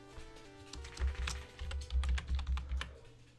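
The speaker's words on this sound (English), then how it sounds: "Sorry about the keyboard there." Computer keyboard typing during a Pokemon 3D game session, a quick burst of close, irregular key clicks and thumps lasting a few seconds.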